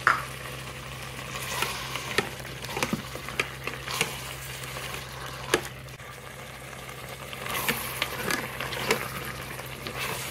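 Coconut and poppy seed paste is stirred into frying mutton curry, with a continuous sizzle, intermittent scraping and knocking of the spoon against the pot, and a low steady hum beneath, close and without talk.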